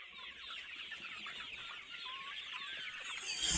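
Brown Cock chickens on a poultry farm give off a dense, steady chorus of high clucking and chirping calls that fills the whole stretch and grows slightly louder toward the end.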